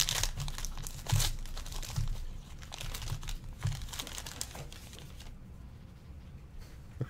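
A 1988 Fleer Basketball card pack being opened, with steady crinkling and rustling of wrapper and cards, close up and continuous, louder at first and then easing off.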